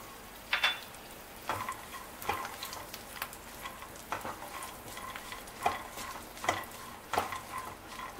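One tablespoon of sesame seeds roasting and being stirred in a pan for Mumbai-style vada pav, with a faint steady sizzle punctuated by regular scraping and tapping strokes of a spoon against the pan, close and quiet, no talking.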